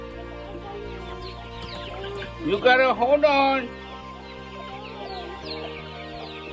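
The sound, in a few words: chickens clucking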